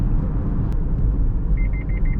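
Mazda CX-8 SP Exclusive lane departure warning, a rapid series of short electronic beeps beginning partway through, heard over the steady low road rumble inside the moving car.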